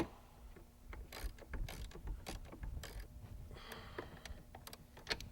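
Wrenching nuts down on a cold air intake install on a car engine, a close series of sharp metallic ratchet clicks and clanks in uneven bursts over a low background hum.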